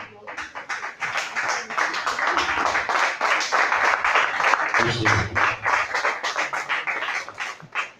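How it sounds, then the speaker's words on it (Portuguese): A standing church congregation applauding during a service, with dense, continuous clapping from many hands that holds steady and fairly loud for several seconds, with voices mixed in. "Eu gostaria que os irmãos ficassem de pé e aplaudissem ao Senhor."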